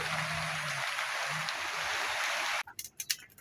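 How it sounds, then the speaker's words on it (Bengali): Heavy rain pours in a steady, dense rush for a few seconds, then stops abruptly and gives way to scattered drips and splashes. "জোর বৃষ্টি নামছে।"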